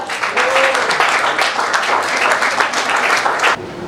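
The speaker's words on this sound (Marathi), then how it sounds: "एकदा जोरदार टाळ्या होऊन जाऊ द्या" A crowd gathered for a Marathi film teaser launch applauds in a dense, loud burst of clapping that runs steadily and then stops abruptly near the end.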